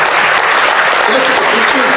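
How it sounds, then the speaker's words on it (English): Dense, loud audience applause at a TFNation conference talk, a continuous roar of many hands clapping close by, with some voices mixed in. "Give Marcelo a big round of applause"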